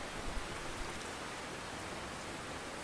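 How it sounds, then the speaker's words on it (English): Heavy rain pours in the video game Russian Fishing 4, a dense, steady hiss of downpour with occasional low thumps and no talk. "Where'd this heavy rain come from?"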